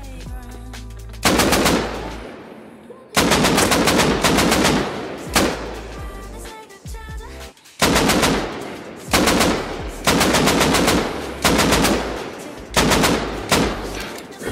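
Automatic gunfire in the survival game Rust, several loud bursts of rapid shots separated by short pauses, repeating across the stretch with brief quieter gaps between volleys.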